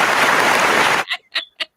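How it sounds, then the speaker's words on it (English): A recorded applause effect fired from a sound board on a soul line dance talk show, a dense burst of clapping that stops abruptly, followed by a few short spoken bits. "I give you a clap"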